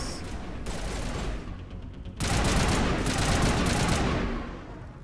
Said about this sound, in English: now there are a few enemies we have to shoot